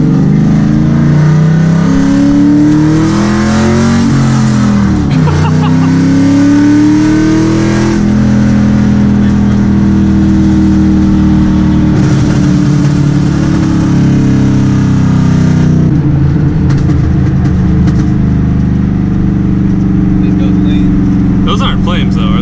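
A race car engine runs loud and close for the whole stretch, its pitch rising and falling as it revs. Voices talk over it.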